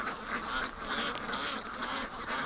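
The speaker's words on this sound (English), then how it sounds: "Oh, there's that little wobbly duck." A small wobbly duck quacking outdoors on a hot, humid summer day, its nasal calls repeating in soft bursts over a steady, noisy outdoor background.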